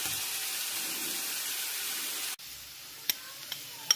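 Onions fry in a pan with a dense hiss that cuts off abruptly, followed by quieter stretches with a few sharp clicks of stirring.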